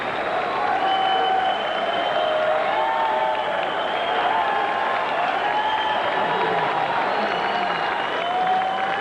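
A boxing arena crowd applauds and cheers steadily for a fighter named Vargas, a broad, continuous wash of clapping and voices that holds at a loud, even level for the whole stretch.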